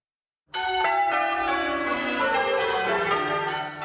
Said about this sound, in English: The peal of Manchester Cathedral's bells has marked weddings and funerals